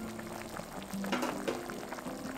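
Korean soft tofu stew with enoki mushrooms boiling in a pot, giving a soft, continuous bubbling and light popping with a faint hum beneath, close and moderately quiet.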